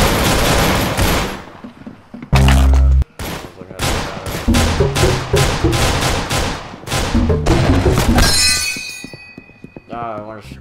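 Slingshot shots fired in the Roblox video game, a rapid series of sharp punchy impacts and thuds over game music, with a person talking over them.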